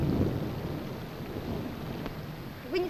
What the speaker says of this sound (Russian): Жду, пока дождь пройдет.